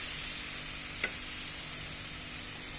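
Chili flakes go into a hot pan of jackfruit pickle, a steady loud sizzle of frying with a single faint tap near the start and no talk.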